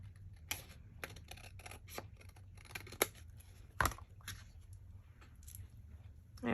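Scissors snip through paper for a vintage-style envelope pocket folio, a quick irregular run of close, crisp cuts with short pauses between them.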